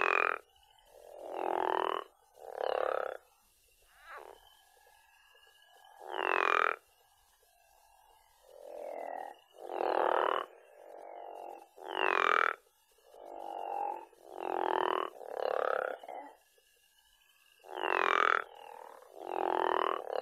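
Frogs or toads call in a rhythmic series of short, loud croaking bursts, about a dozen spaced evenly across the stretch, with quiet gaps between them and no voices.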